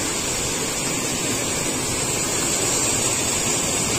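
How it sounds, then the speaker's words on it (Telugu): Flood water surges under the Sri Rangarajupalli bridge in Hindupur after heavy rain, producing a constant, full rushing roar that holds steady without a break. "ఇటు బ్రిడ్జ్ కింద అయితే వాటర్ పోతున్నాయి."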